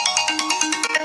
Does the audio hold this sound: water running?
no